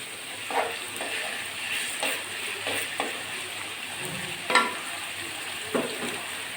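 Cumin paste hitting hot oil with frying potatoes in a pan, a steady soft sizzle with a few louder stirring scrapes and clacks, no talking.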